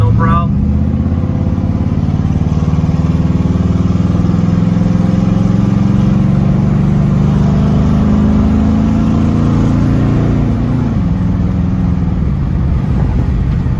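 A 1968 Mercury Cougar XR7 engine runs loud and close, a sustained throaty rumble that swells and eases as it revs, with a new ignition coil fitted and no speech over it.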